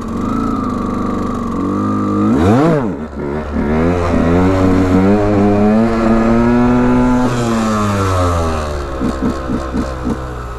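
KTM EXC 125 two-stroke motorcycle revving hard during wheelie practice, a sharp climbing rev followed by sustained high-pitched engine howl through a gear and quick throttle pulses near the end, loud and close.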